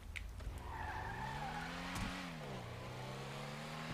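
A sports car engine in GTA 5 revs in a steady rising and falling drone with some tire squeal, alone and fairly close, without talk.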